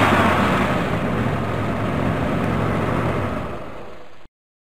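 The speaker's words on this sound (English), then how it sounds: "truck." A truck engine rumbles loud and close with a steady, broad roar for about four seconds, easing slightly before cutting off abruptly; no voices.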